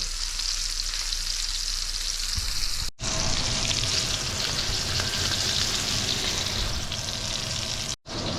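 Deer loin stir fry sizzles loudly and steadily in a hot pan, a continuous close frying hiss that runs alone the whole time with two brief cutouts.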